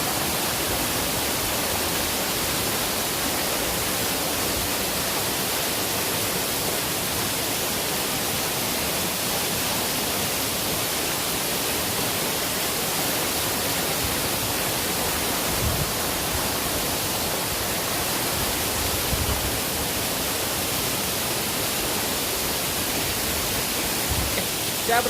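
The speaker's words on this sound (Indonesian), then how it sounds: "Kita lihat air terjunnya di sana." Yeh Hoo waterfall in Bali roaring steadily and close, a dense unbroken rush of falling water that fills the whole scene at a constant loud level with no voices.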